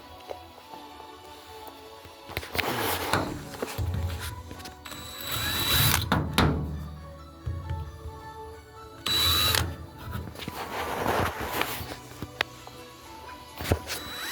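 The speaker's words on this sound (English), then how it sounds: "First, we're gonna pre-drill." A power drill pre-drills holes in a camper frame being built for a tractor, with several loud whirring bursts of varying length and clattering handling noises between them, all close by.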